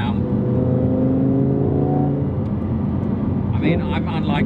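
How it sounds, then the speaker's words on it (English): A Porsche 997 GT3 RS 4.0 or Lamborghini Huracan Performante engine drones loudly and steadily with the roof down, its harmonic tone holding then shifting, with wind noise and a voice mixed in underneath. "you can really hear the engine much better when you've got the roof down"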